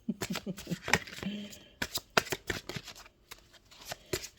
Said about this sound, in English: Let's get a chakra card out here for you.